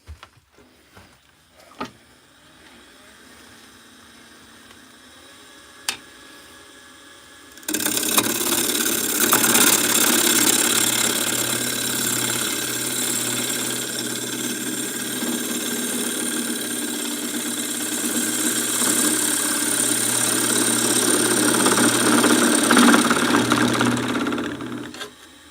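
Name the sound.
wood lathe turning a shallow bowl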